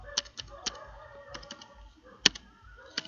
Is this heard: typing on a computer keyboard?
yes